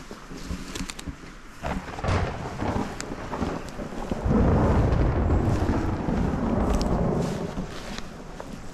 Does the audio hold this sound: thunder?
yes